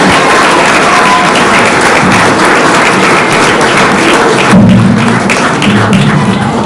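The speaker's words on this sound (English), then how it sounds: "Let's give them another round of applause." A large crowd applauds loudly and continuously, a dense wash of clapping with some thumps and cheering mixed in.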